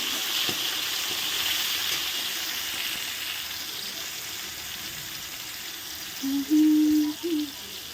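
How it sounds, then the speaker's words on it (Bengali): Steady broadband sizzling of tomato frying in hot oil, with a brief tonal hum near the end. "এই তেলে এই যে দেখো টমেটোটা দিয়ে দিচ্ছি টমেটোটা একদম ভালো করে ভেজে নরম করে"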